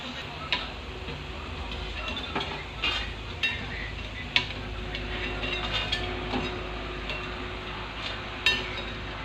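Boondi pearls of gram-flour batter frying in hot oil, a steady close bubbling hiss with occasional sharper clicks and taps from a utensil, no talk.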